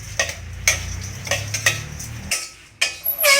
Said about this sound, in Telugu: అటుకులు వేయించుకుందాం ఇప్పుడు